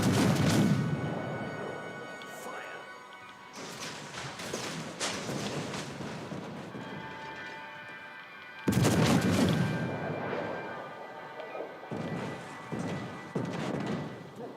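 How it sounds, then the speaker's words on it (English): Heavy battleship 16-inch naval guns booming in the World of Warships: Legends game, two big broadband blasts with long rumbling decay amid steady combat noise, no talk. "There's a battleship as well. 16-inch guns, of course."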